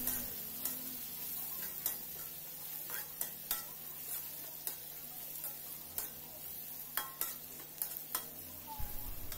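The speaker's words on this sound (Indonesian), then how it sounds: "langsung saja ya ditumis untuk sambal matahnya" Sambal matah sautéing in a pan, a soft continuous sizzle punctuated by frequent sharp ticks of a utensil stirring and scraping the pan, close and fairly quiet, no talk.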